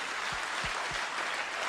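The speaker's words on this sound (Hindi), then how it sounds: "जोरदार तालियां सबके लिए, जोरदार तालियां।" Applause from the audience at a self-development training session: a dense, even patter of many hands clapping together, steady and moderately loud throughout the short burst.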